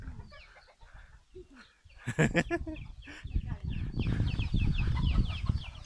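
A flock of chickens clucks close by in the yard of a grandfather's rural home. The busy, overlapping clucks grow denser and louder partway through, and people talk nearby.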